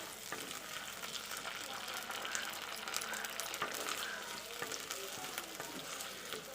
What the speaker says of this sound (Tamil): மீடியம் ஃப்ளேம்லேயே வச்சு நல்லா நம்ம எண்ணெயில் கத்திரிக்காயை வதக்கிக்கலாம்